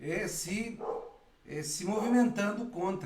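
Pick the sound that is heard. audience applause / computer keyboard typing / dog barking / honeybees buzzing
dog barking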